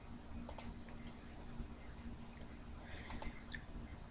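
Two quiet computer mouse clicks, one early and one near the end, over a steady low electrical hum while pasting into a Craigslist ad template.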